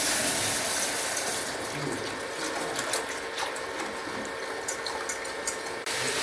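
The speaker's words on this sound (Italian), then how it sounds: "aggiungiamo il latte" Milk poured into a roux in a pan, a steady liquid rush and sizzle with faint clinks, continuous and close, with no voices.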